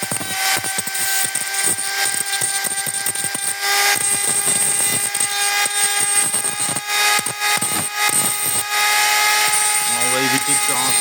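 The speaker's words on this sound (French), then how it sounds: "je vais meuler les petits résidus qui sont sur le dessus des accus pour pouvoir souder" A grinder works residue off the tops of cells from a faulty 36 V battery pack before soldering, giving a loud, continuous whine with mechanical rattling and short interruptions throughout.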